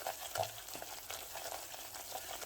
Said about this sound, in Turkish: Unum kavruldu gördüğünüz gibi